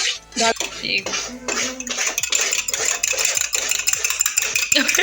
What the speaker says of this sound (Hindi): अंडे फेंटे जा रहे हैं।